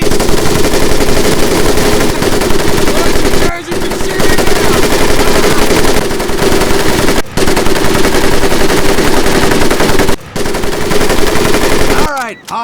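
An M1919A4 .30 caliber machine gun in the video game Medal of Honor fires long, loud, rapid bursts, broken by a few brief pauses, with a ringing mechanical clatter throughout.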